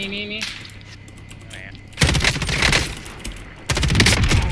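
Bursts of rapid automatic gunfire from an M13 rifle in the video game Call of Duty Warzone, two loud sustained volleys after a quieter opening with brief game sounds.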